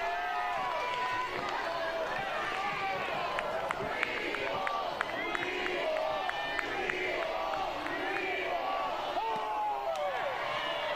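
Softball stadium crowd at a college game between Oregon and Stanford, a steady wash of cheering and voices that carries through the whole stretch, with scattered claps and sharp hits on top and talk mixed in.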